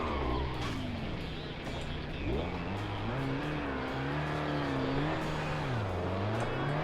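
A manual diesel car driven in the BeamNG driving game, its engine droning and rising and falling in pitch through gear changes with tire noise, continuous and close throughout.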